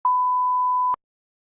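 A censor bleep is dubbed over speech: one steady, clean electronic tone lasting just under a second that stops abruptly, followed by silence.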